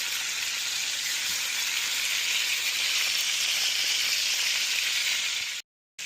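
Amchur-spiced stuffed eggplant sizzles steadily in a pan, a dense, even frying hiss that holds at the same level for several seconds before cutting off abruptly near the end.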